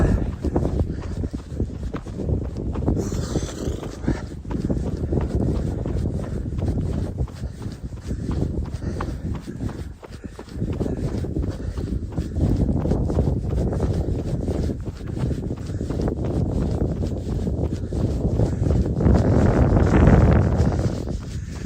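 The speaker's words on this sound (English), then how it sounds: "What's with that wind?" Wind buffets the microphone in a steady low roar on a snowy morning run outdoors, rising and falling in gusts for the whole stretch with no talking.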